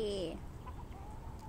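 A chicken gives a short rising call at the start, then soft, faint chirps follow over a quiet background.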